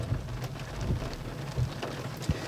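Steady rain falls over an outdoor park area near basketball courts and a children's play space, a continuous wash of drops with a few louder splashes or gusts rising briefly above the patter.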